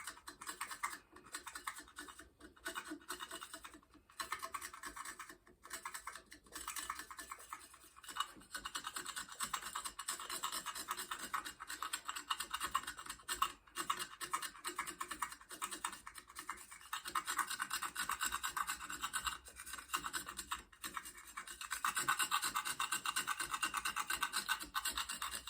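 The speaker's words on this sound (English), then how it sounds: "I'm not worried about scratching the handlebars up with this razor blade and the utility knife" A razor blade and utility knife scrape steadily along bicycle handlebars, giving a continuous close rasping and scratching with brief pauses between strokes, alone without talk.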